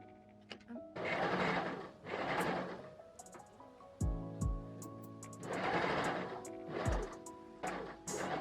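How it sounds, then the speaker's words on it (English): A sewing machine stitches fabric for a witch Halloween cosplay costume, joining the neckline and straps. It runs in two steady buzzing bursts separated by a pause, with faint background tones underneath. "When I get to that corner, I'm just going to put my needle down, pivot, and then continue stitching."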